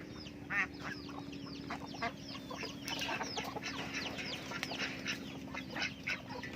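A flock of chickens clucks and calls continuously near water, many overlapping short cries at moderate distance, with a steady low hum beneath.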